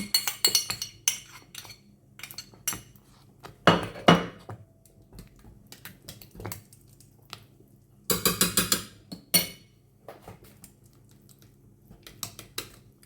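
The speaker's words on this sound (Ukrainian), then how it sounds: "Все перемішую до однорідності." A spoon clinks and scrapes against a pot while coconut custard cream is stirred with butter until smooth, with scattered taps and short dense bursts of scraping between quiet pauses.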